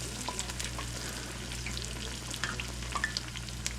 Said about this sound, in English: Temperature drops on the oil when you put the fish in.